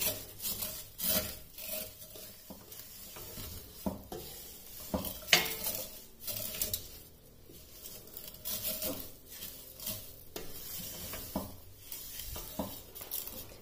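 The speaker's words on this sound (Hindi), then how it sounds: "सेवइयों को इसमें थोड़ा सा भून लेना है" Vermicelli is being slowly roasted in a pan over a low flame until golden, with a spoon scraping and clinking against the metal in uneven bursts under a faint background sizzle, and no voice.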